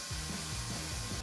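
The head edges of M8 bolts are ground down to fit a hole in a homemade mechanism, giving a steady, continuous abrasive rasp close by with no speech.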